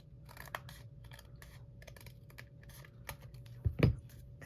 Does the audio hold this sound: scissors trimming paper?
yes